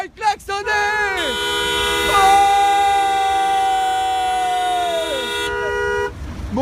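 Several car horns honk in long sustained blasts, overlapping with one another, at a busy motorway toll plaza at Saint-Arnoult during a protest action, loud and close with a brief shout at the start.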